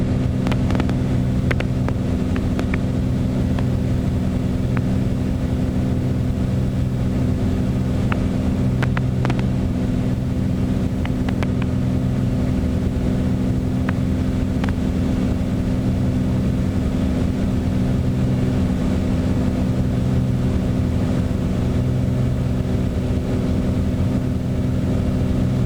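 A Bonanza light aircraft's engine drones loud and steady during takeoff over the Chicago lakeshore, a constant deep hum with wind rush layered over it throughout, and no voices.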